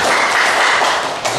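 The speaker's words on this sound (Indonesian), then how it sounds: "Kita berikan tepuk tangan buat beliau ya." Audience applause at a regional government coordination meeting in Central Lampung, Indonesia, honoring a statistics office head: a dense, steady wash of many hands clapping at close range, with a brief dip near the end.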